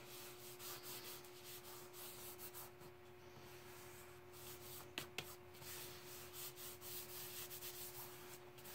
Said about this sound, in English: Just going to give that a good rub.